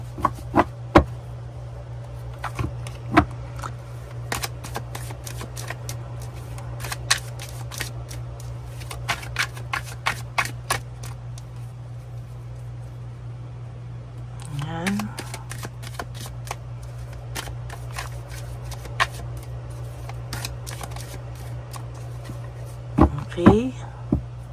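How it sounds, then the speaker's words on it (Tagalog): Playing cards being shuffled in scattered bursts of crisp riffles and taps over a steady low hum, with a few louder handling noises. "Balasahin lang po natin maigi ang ating baraha."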